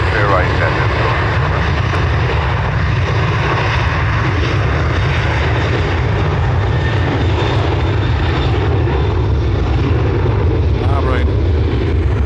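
A jet airliner roars continuously down runway 10R at Dublin Airport on takeoff, loud and steady throughout with no break in the engine noise.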